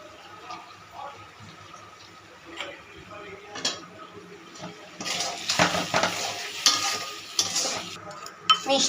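A spoon scrapes and clicks while stirring an eggplant curry (begun jhal) in a frying pan with turmeric, chili powder and salt. Faint scraping comes first, then a louder sizzle with sharp taps in the second half.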